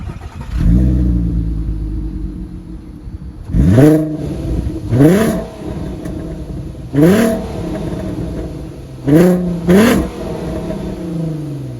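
A VW Golf Mk5 R32 engine cranks and starts, settling into a low idle, then is revved hard several times in short bursts, each climbing and falling back.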